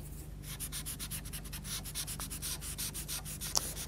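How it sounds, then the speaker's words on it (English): Pastel being blended on paper by rubbing, a steady rhythmic scratchy brushing of strokes back and forth, close and continuous with no speech. "And then give it a bit of a blend."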